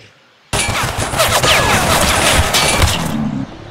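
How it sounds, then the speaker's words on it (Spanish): Dense, loud gunfire from a forest survival shooter game, The Last Haven, with rapid overlapping shots and cracks bursting in at once and sustained for about three seconds before cutting off. "Están disparando hacia adentro."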